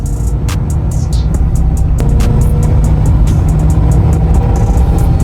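Beat-up Honda car accelerating down a straightaway on a test drive, a loud, steady engine drone filling the cabin with road rumble and occasional clicks, no talking.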